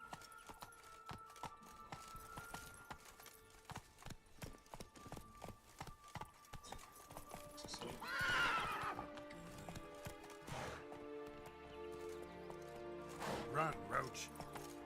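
In Witcher 3, Geralt's horse gallops with rapid, rhythmic clip-clop hoofbeats and loud whinnies, while voices call out over the running hooves.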